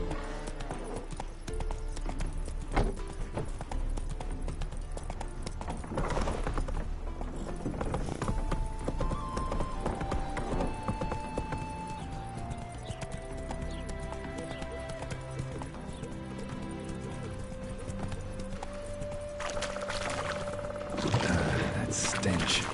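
Roach, a horse in The Witcher video game, gallops in a rapid, steady clip-clop rhythm under game music and occasional voices.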